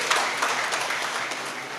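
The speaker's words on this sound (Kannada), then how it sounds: "ಅದಕ್ಕಾಗಿ ನಾವು ಈ ಕೆಲಸಕ್ಕೋಸ್ಕರ ಅವರನ್ನೊಂದು ಚಪ್ಪಾಳೆಯ ಮೂಲಕ ಅಭಿನಂದಿಸಬೇಕು" Crowd applause at a Kannada community awards and felicitation ceremony, a dense wash of many hands clapping at moderate distance, sustained evenly for the whole stretch without any voices over it.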